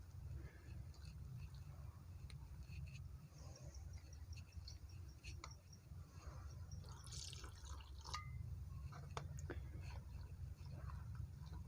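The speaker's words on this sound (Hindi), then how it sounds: "अब हम इसके अंदर थोड़ा थोड़ा पानी डाल देंगे।" Water poured little by little into a spice mixture for Lahori dahi phulki gives intermittent soft drips and trickles over a steady low background hum.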